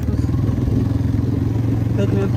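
Kawasaki KEF300 Lakota ATV engine running steadily up close, a continuous motor drone with slight changes in pitch as gears are shifted while the throttle is held.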